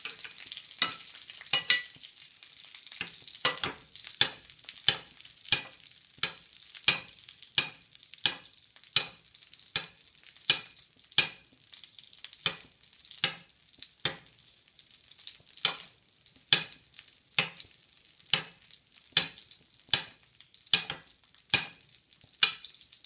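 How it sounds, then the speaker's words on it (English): Wild duck breasts sizzle in a frying pan while being basted, with a steady hiss broken by regular sharp splashes and spatters as hot fat is spooned over them, close and clear with no talk. "So we'll keep basting"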